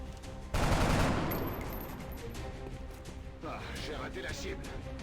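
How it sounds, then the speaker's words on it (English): Sustained gunfire from a squad shooting an alien in XCOM, a loud burst that opens sharply and then rattles on as a steady volley under ongoing game noise. "And now we're gonna shoot it with guns."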